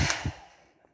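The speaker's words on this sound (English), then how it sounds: "It is warm hair dryer." A hair dryer on its warm setting, used to dry aggregate samples, gives a close, steady rush of blowing air that quickly fades away within a second.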